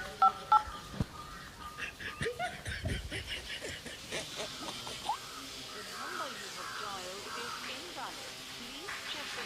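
Two short telephone keypad tones sound at the start, then people talk and chuckle over faint background noise.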